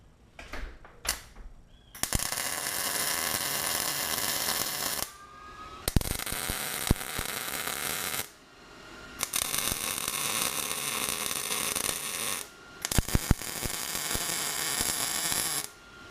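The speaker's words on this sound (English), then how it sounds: "I'm gonna go ahead and tack it in place." A welder tacks a floor structure piece into place on a Jeep XJ trail buggy build. Long stretches of steady crackling buzz are broken by brief pauses and sharp pops, close and fairly loud, with no voices.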